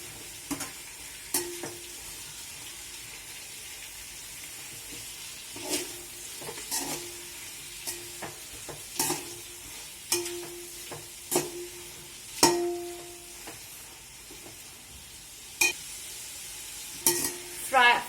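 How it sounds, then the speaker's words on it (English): Chilies frying in a pan for chicken biryani, with intermittent sizzling and repeated scraping stir strokes of a utensil against the pan at irregular intervals, close and moderately loud, no talking. "Add chilies. Fry them."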